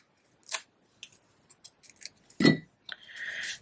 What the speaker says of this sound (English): This piece is much longer than what we need, but we can cut off what we don't want.